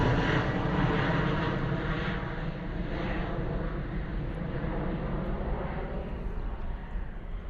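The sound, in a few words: Ryanair Boeing 737 departing from Bristol Airport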